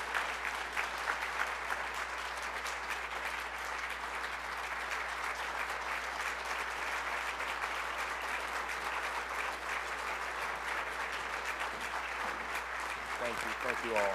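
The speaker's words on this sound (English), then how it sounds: "Please join me in welcoming Burrell Ellis with applause" Sustained applause from a large audience at a county State of the County Address, steady and even throughout, with a few voices mixed in beneath the clapping.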